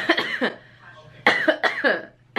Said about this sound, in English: Not me coughing up my life on camera.